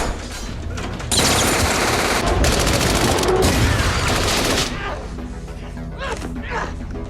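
Dense, rapid gunfire from the Westworld season one finale, a loud continuous fusillade of automatic weapons that eases off toward the end, with a voice talking faintly under it.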